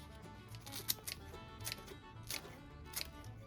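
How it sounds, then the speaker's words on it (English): Toasted English muffin being cut into bits, with four or five crisp snips spaced about half a second to a second apart, close and quiet, with no talk. "Cut up bits of a toasted English muffin."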